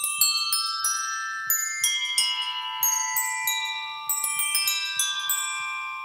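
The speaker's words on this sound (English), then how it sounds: "Now we've got a melodic kit from those chimes." Melodic chime samples triggered in the DigiStix drum machine and sampler app, a series of bright bell-like metallic notes struck in a quick, uneven sequence, each ringing and decaying, with no voices.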